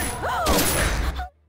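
Gunshot in an Indian action film (Dictator, 2016), a man shot dead: a loud booming blast with a short wail-like tone before it, then an abrupt cut to silence.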